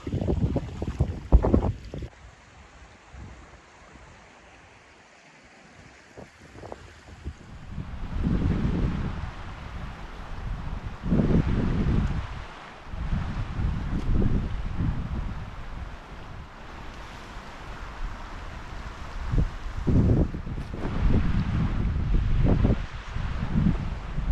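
Gusty wind buffets the microphone outdoors, rising and falling in loud rumbling bursts over a quieter background.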